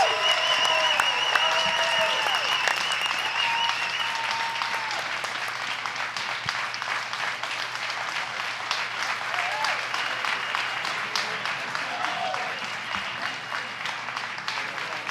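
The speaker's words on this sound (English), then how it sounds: "please, one more huge round of applause for this amazing class" Sustained applause from an audience at an energy-tech accelerator demo day fills the room, dense and steady for the whole stretch, with scattered whoops and cheers rising through it.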